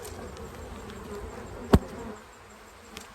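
Honeybees buzzing at an opened hive, a steady close hum filling the air with a sharp thump partway through, continuous and moderately loud, no talking.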